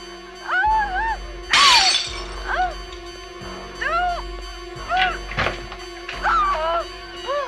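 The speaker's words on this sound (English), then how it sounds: "a milky piece of glass that is going to about to get smashed once Michael comes in" A milky glass pane is smashed in the horror film Halloween. A loud crash of breaking glass comes early, followed by sharper impacts among tense film sounds and wavering tonal cries.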